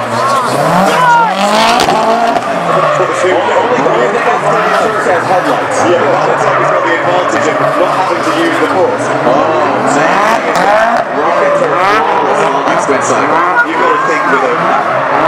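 A modified Ford Escort with a Millington engine runs a gymkhana course, its engine roaring and tyres squealing through continuous skids, loud throughout, with commentators talking over the noise.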